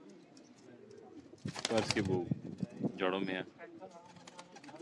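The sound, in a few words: breeder pigeons cooing on a rooftop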